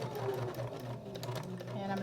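Sewing machine back stitching a short run on a small fabric mini apron recipe holder, a quiet continuous motor hum with a low steady drone throughout.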